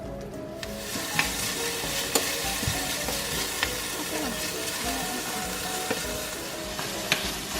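Onions frying in a pan give a dense, continuous close sizzle, broken by occasional sharp taps and scrapes of a utensil at irregular intervals, with no speech.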